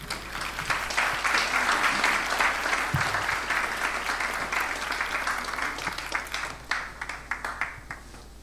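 An audience at the Nigerian Council of Registered Insurance Brokers mid-year workshop applauds a speaker. Sustained, full clapping from a room of people thins toward the end into scattered individual claps.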